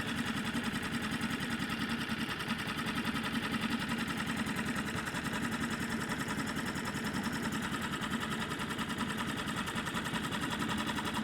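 A Hangkai 6.5 four-stroke outboard motor idles steadily and close by. The dense, rapid chug stays even and uninterrupted the whole time.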